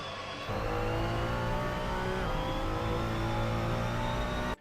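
Ferrari 296 GT3 race car engine in the Assetto Corsa racing game, a loud, steady high-revving drone that surges in from near silence, dips briefly at a gear change mid-run and keeps pulling hard.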